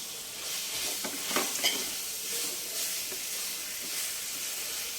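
Prawns and onions fry in a pan for a royyalu chukkakura curry, giving a steady close sizzle with occasional scraping stirs against the pan.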